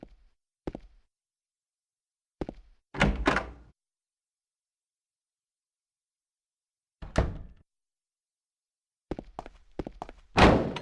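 A door in the Silent Hill 2 video game, fitted with a small shutter, clunks open amid a series of sharp thunks and thuds separated by silences, with a heavier slam-like burst near the end.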